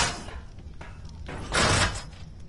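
A secret door in the video game ARK sliding open on a boat base: a heavy scraping slide with a dull thump building near the end, fairly close in a quiet game scene.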